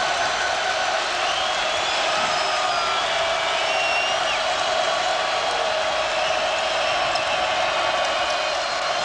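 Basketball arena crowd at an Iowa State Cyclones game against FSU in the 2004 NIT, cheering and roaring as a steady loud wash of voices across the whole stretch, with no distinct announcer speech standing out.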